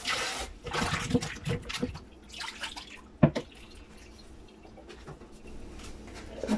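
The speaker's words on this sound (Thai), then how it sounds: "ขั้นตอนแรกจะเริ่มจากการล้างส้มนะคะ" Mandarin oranges being washed in water, with splashing and trickling in bursts, a sharp knock midway, then quieter drips and light handling sounds.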